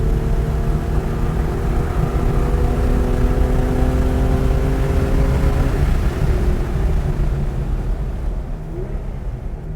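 Modded 1990s car lapping a track in fourth gear, a loud steady engine drone from inside the cabin with rising and falling tones, easing slightly near the end, no talk.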